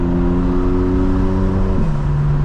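Engine intake noise from a 2025 BMW M4 Competition on an upshift, a loud steady engine tone that drops in pitch as the gear changes near the end, heard from inside the car with no talk.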